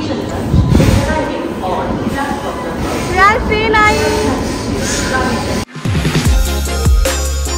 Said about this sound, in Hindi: ट्रेन भी आ गई ट्रेन हाँ तो उधर से ट्रेन आ रही है यार ट्रेन आई